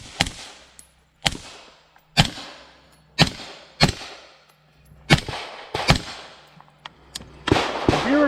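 Carbine shots ring out one after another on a competition shooting stage, about nine sharp loud reports spaced roughly a second apart with brief echoing decays and a faint metallic clang at the end.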